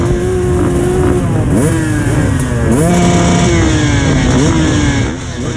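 A pack of 450cc motocross bikes revving hard together at the start of a sand beach race at Barmouth, a loud, continuous engine roar with rising and falling pitch sweeps as riders accelerate close by.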